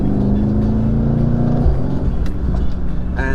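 A tuned Mercedes C63s in Sport Plus mode drives with a loud, steady, deep engine and exhaust drone from close by, then a shift and a few crisp crackles near the end.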